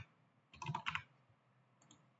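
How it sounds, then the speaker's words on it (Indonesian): A short burst of computer keyboard typing, a quick cluster of close, soft key clicks followed by a faint single tap, in a quiet room with no talk. "Di sini langsung saja kita ketikkan biru"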